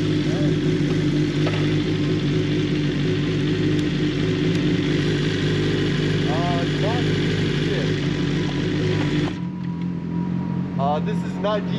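A Ducati Panigale V4 Speciale motorcycle engine idles with a steady low rumble, close and loud, with faint chirps over it before the tone drops away near the end.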